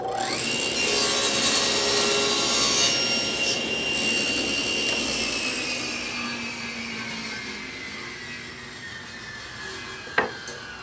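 A power saw cuts through wood for a cabinet face frame, its blade whine loud and steady, then slowly winding down and fading after the cut, with a sharp click near the end.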